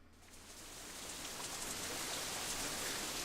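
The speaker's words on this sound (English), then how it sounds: "it starts to rain again" Steady rain in a Katawa Shoujo visual novel scene, a broad hiss of falling drops that swells in over the first second and then holds even and fairly loud, with no talk.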